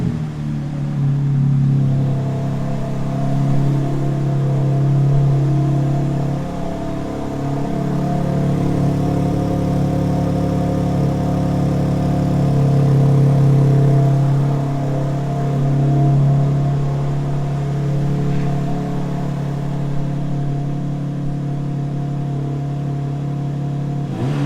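A 2024 BMW M2 G87 engine, running at warm-up idle with a steady, deep burble that swells and settles gently, heard close by with no talking.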